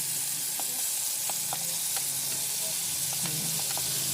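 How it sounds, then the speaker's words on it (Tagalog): Tomatoes sizzle and fry in a hot pan, a steady crackling hiss with a few light clinks of a utensil stirring, heard alone at a moderate level. "Isunod eh, natin yung kamatis. Ayan. Gisahin lang natin konti."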